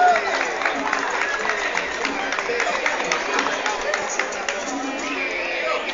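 Steady applause from a crowd honoring medal winners at a sports awards ceremony in Cartagena de Indias, Colombia, sustained at even loudness for the whole stretch with a murmur of crowd chatter mixed in.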